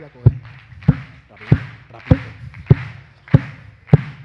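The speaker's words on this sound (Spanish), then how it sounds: "quiero que me acompañe con unas palmas" A crowd claps in a steady, even rhythm with a DJ at a lively Corrinche party in Bogotá, sharp claps landing about every 0.6 seconds over a low musical hum.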